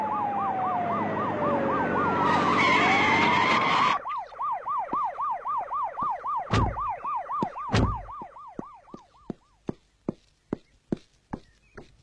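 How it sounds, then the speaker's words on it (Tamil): A police jeep siren wails loudly in a rapid warbling cycle, then gives way to a series of sharp electronic yelps and bursts that fade out. "நம்ம வண்டிக்கு முன்னால போற போலீஸ் ஜீப்ல இருந்து வர்ற சத்தம் தான் சார்."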